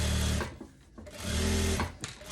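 A sewing machine stitches a finishing seam along a tweed coat lining, running in two steady, loud whirring bursts separated by a brief slowdown, close up with no talk.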